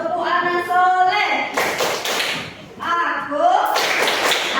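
A school class claps the Tepuk Anak Soleh song, with bursts of many hands clapping together in rhythm between stretches of children's voices chanting.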